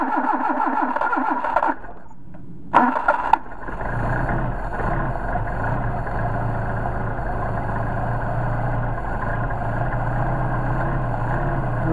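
A Mercedes 190SL with Solex carburetors on full choke cranks briefly, stutters, then catches and settles into a steady, close, loud idle.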